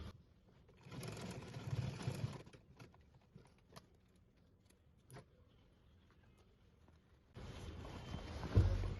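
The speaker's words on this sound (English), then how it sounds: "I'll turn it over like this, and I'll sew down on it." Sewing machine stitching down the end of fabric on tailored high-waisted shorts, with two bursts of close, steady whirring separated by quiet handling clicks.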